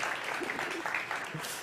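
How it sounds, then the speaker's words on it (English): An audience at a startup competition applauds, a brief dense burst of clapping with a voice speaking over it. "Big applause for Bea."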